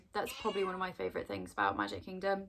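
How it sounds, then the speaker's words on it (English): A pet cat meows repeatedly and insistently, several close, drawn-out cries overlapping a person talking nearby. "sorry, that's my cat."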